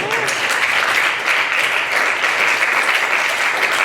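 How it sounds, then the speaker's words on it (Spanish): Sustained applause from a church congregation during a bilingual Spanish-English sermon, dense and steady throughout, with a voice faintly present underneath. "Dale fuerte el aplauso."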